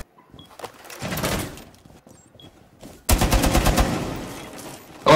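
Video game gunfire comes first as a short, moderate burst, then as a loud, rapid automatic volley close by that rattles on for about two seconds, with another burst starting at the very end.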